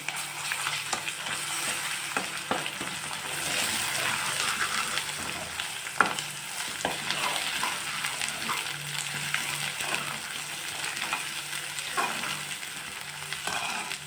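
Brinjal masala curry being stirred in a pan after chili powder goes in, a continuous frying sizzle under repeated scraping strokes of a spoon against the pan, close and steady with no voices.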